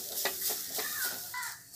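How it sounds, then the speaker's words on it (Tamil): Grated coconut dry roasting in a pan for a kozhukattai filling, with a steady soft crackle and scraping stir strokes, close and moderately loud, a faint bird call in the background. "நம்ம எடுத்து வச்சுருக்க தேங்காவை போட்டு நல்லா ஒரு ட்ரை ரோஸ்ட் பண்ணிக்கலாம்"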